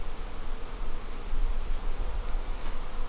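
Honeybees buzz from an opened beehive, a dense, steady swarm hum close by and fairly loud, with no one speaking.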